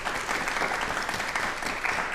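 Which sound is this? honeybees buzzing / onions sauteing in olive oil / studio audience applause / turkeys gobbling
studio audience applause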